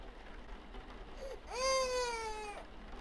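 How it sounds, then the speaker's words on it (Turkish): A baby doll's cry rises into one drawn-out, high-pitched wail lasting about a second, faint and alone in a quiet indoor room, preceded by a brief softer whimper. "Niye ağlıyorsun yavrum sen ya?"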